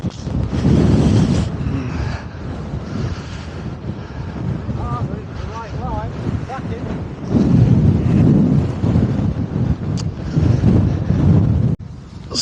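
Gusty wind buffets the microphone on a links golf course, loud rumbling surges that rise and fall, with people talking in between.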